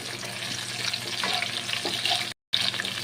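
Cashews and raisins frying in a pan on low heat, a continuous soft sizzling hiss with faint stirring clinks, briefly cut to silence near the end, no voices.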